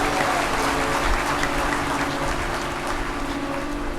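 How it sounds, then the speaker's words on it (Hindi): An audience at a Hindu devotional discourse claps together, a dense and fairly loud patter of applause that holds steady throughout, with no voices over it. "जरा ताली बजाओ"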